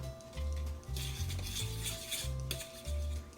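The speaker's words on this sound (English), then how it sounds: "you stir each egg in one by one" Eggs are stirred one at a time into butter and sugar for banana bread, heard as rhythmic scraping and rubbing of a spoon against a bowl with a low repeating hum underneath.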